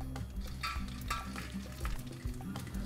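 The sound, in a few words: sautéing cardamom, cloves and cumin in ghee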